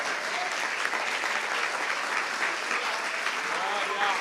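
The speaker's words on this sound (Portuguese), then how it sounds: "Você consegue aplaudir ao Senhor pela sua palavra agora?" A church congregation applauds together after a prayer, a steady wash of clapping from a large hall filling the whole moment, with faint voices mixed underneath.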